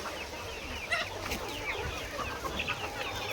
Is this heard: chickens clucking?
yes